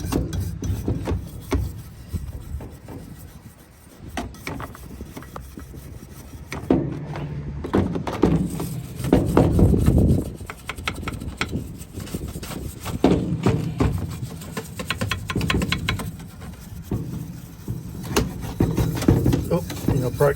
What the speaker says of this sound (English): That a good old scrub as much as you can.